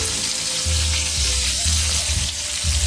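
Onions sizzle in leftover oil from frying fish, a steady loud crackle and hiss close up, with low rumbling bursts from stirring or the stove running underneath.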